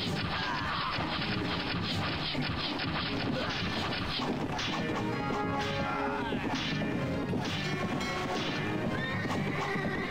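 A horse whinnies loudly amid clattering hooves and crashing impacts in the game Caesar III, a dense, busy game soundscape with no pause.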